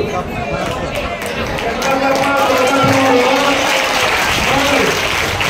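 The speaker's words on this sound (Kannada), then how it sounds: "ನಾವು ಚಪ್ಪಾಳೆ ಮೂಲಕ ಅವ್ರ ತಾಯಿನ ಸ್ವಾಗತವನ್ನು ಬಯಸ್ತೀವಿ" Clapping crowd welcoming a guest at a Sri Matha monastery gathering in Harakud, a dense steady wash of applause that holds loud throughout with voices mixed in.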